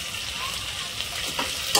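Onion, garlic paste and whole spices frying in oil for veg masala pulao, a steady close hiss of sizzling with light stirring scrapes, a brief clink near the end.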